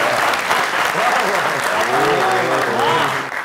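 Audience applause at a comedy poetry show, loud sustained clapping from a full house with voices calling out over it, tapering slightly at the end.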